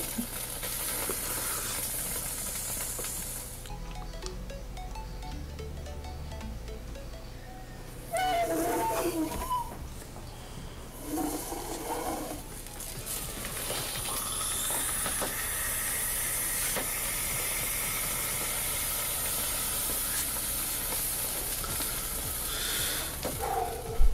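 A glowing red-hot knife, heated to about 1000 degrees, pressed into a plastic Rubik's cube, giving a hissing, steamy sizzle that starts and stops in bursts over a faint low hum before settling into a long steady hiss.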